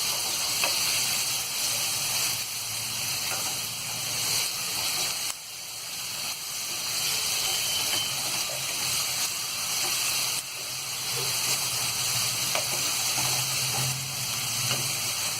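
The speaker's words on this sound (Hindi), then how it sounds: "ये अदरक और लहसुन का पेस्ट डाल देंगे और इसे हम अच्छी तरह भून लेंगे।" Ginger-garlic paste fries in a pan for a mutton liver masala, with a loud, steady sizzle and hiss throughout and brief dips where it is stirred. No one speaks.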